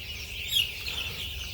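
Chicks or hens huddled under a brooder light on a poultry farm give a soft chorus of high peeping and chirps, with one brief louder call near the middle, steady and close.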